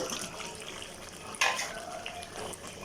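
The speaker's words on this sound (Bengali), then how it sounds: "এবার আলু দেওয়া হয়ে গেছে, এটা সুন্দরভাবে নাড়াচাড়া করে নিব।" A spoon stirs meat and potatoes in a cooking pot, with soft scraping and a light sizzle throughout and one brief metallic clink against the pot near the middle.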